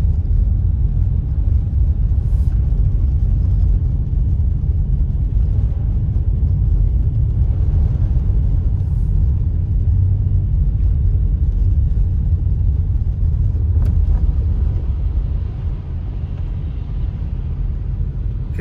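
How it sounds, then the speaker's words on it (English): A turbocharged Subaru driving on a snowy mountain road around Big Bear, heard from inside as a steady, loud low engine and road rumble that holds for the whole stretch with no talking. "this car has a turbo in it too"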